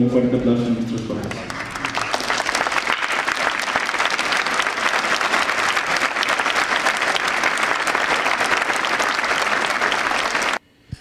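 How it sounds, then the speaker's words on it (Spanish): A graduation audience gives their parents sustained, loud applause, with dense clapping that runs steadily for about ten seconds before cutting off abruptly. "ofrezcámosles con todo nuestro más profundo agradecimiento un fuerte aplauso a nuestros padres"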